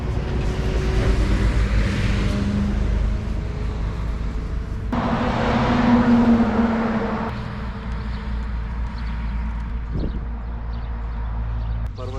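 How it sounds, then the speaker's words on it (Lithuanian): Cars drive past on a road in a German city, a continuous engine and tyre rumble that swells as one vehicle passes nearby, then settles back into steady traffic noise. "Parvažiuoja mašinos."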